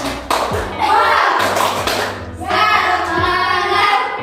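A classroom group performs rhythmic 'tepuk semangat' clapping, sharp patterned claps in two bursts close by, with chanting voices and talk mixed in.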